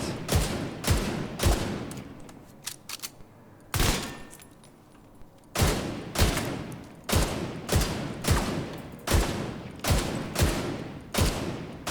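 Bighorn rifle firing in The Division 2 video game: a series of sharp, loud single shots at a regular, deliberate rhythm, with one longer pause and quieter clicks partway through.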